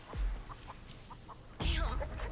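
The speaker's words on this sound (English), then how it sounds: "Oh, stupid chicken." A chicken in the Texas Chain Saw Massacre video game clucks in a few short bursts, then lets out a louder squawking flurry near the end, close and clear with no speech.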